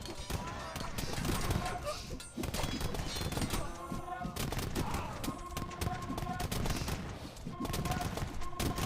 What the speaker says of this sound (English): A lot of cannon shots going off.